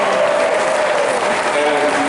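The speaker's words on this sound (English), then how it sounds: "Stand up again, because you deserve the applause" Convention opening-ceremony audience at TeslaCon applauds two women who sold the VIP tickets, a brief, thick wash of clapping, loud and steady, with cheering voices woven through it.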